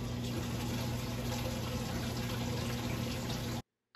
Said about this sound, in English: I'm using a pump here to make things easier.